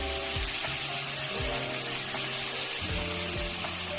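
Green onions and meat frying in a pan for soft tofu stew, a steady loud sizzle with occasional stirring scrapes close by.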